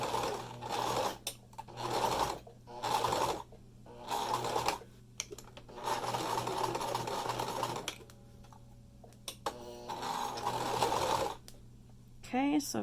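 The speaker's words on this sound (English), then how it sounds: "I've got the back stitching done." A home sewing machine back stitches a 3D fabric face mask in several short whirring bursts separated by pauses, with fabric handling and small clicks in between, heard up close.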